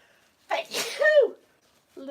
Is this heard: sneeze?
yes